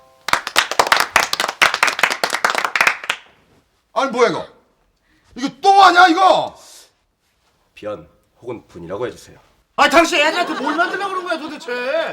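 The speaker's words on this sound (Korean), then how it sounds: "박수 부탁드립니다." A burst of clapping rings out at the start of a Korean sitcom scene, dense and lively, then gives way to voices talking and exclaiming, with a brief noisy stretch of clapping near the end.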